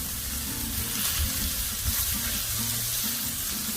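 Chicken pieces frying in olive oil on a Blackstone griddle, a constant crackling sizzle with bubbling pops, close and steady throughout.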